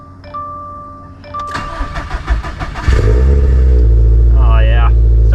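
A Subaru STI with a stock engine and FP Zero turbo does a cold start: a short cranking whir, then the engine catches and settles into a loud, steady high idle, heard up close with no talk.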